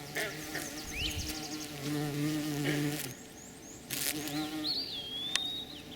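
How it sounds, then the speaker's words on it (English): A low bumblebee buzz drones steadily beneath scattered bird chirps and whistles outdoors in a garden, fading and returning over a few seconds. "there's another bumblebee working it"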